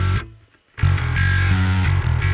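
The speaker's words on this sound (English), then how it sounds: "It's a mid distortion band" A bass guitar played through a mid-band distortion effect gives thick, gritty sustained notes, with a brief pause early on, then loud, continuous distorted tone changing pitch a few times, with no voices.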